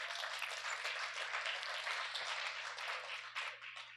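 A church audience applauds during a Christmas sermon, a steady wash of many hands clapping that holds evenly for several seconds, heard from a distance over a low hum.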